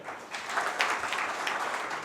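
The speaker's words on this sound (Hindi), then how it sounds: "तालियां बजाओ" Audience applause at a Hindi poetry book launch event, a steady, dense patter of many hands clapping together for a couple of seconds at moderate distance.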